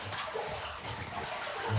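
Water fills a completely flooded house basement several feet deep, making a steady close wash with soft trickling and gurgling.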